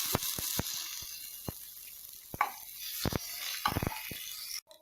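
Ginger garlic paste sizzles with light golden brown onions in a pan, a steady close frying hiss broken by sharp spoon clicks and stirring knocks throughout, with no talking.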